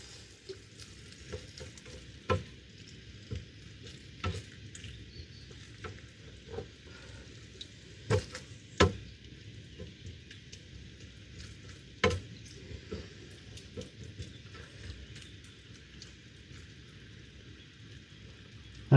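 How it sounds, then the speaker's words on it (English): Chicken and sauce fry in a pan while being stirred, a soft steady sizzle broken by scattered scrapes and clicks of a utensil against the pan. "Mix it all up."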